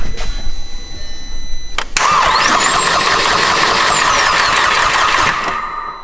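A VW MK6 GTI engine cranks briefly, then fires and catches into a loud, steady idle with a rising whine, heard up close with no talk.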